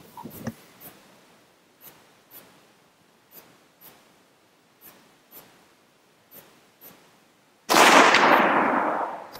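A .375 H&H rifle fires one loud, sharp shot near the end, with a long ringing decay after it, following a series of faint, evenly spaced clicks and taps.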